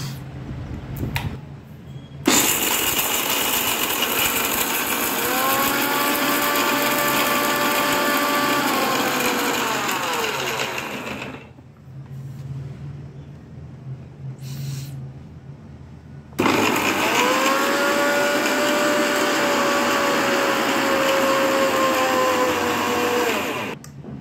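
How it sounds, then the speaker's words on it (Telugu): An electric mixer grinder whirs loudly as it grinds cashews and almonds for kulfi, running in two long bursts with a short quieter pause between them. "ఇప్పుడు జీడిపప్పుని బాదం పప్పుని మిక్సీ పట్టుకోవాలి."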